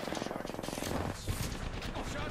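Bursts of rapid gunfire in the video game Apex Legends, dense and fairly loud throughout the short stretch, with a voice talking over the shooting.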